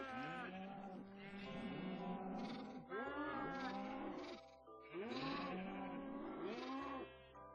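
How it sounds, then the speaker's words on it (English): Several Minecraft baby sheep bleat in overlapping, wavering cries, steady and continuous, with a low background hum underneath. "Here come the baby sheep."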